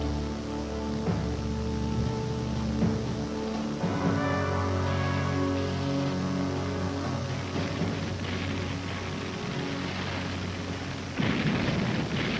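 Heavy naval shelling booms over the beaches at Leyte in a sustained, rumbling barrage with repeated blasts and a sharp burst near the end.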